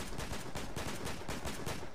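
Enemy gunfire in the battle royale game Fortnite: a steady run of rapid shots, evenly spaced and dense, filling the whole stretch at moderate loudness with no talk over it.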